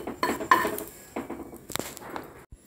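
Roasted coconut scraped out of a pan into a small bowl, with clinks and scrapes of a spoon against metal and dishware, a few sharp knocks standing out close by.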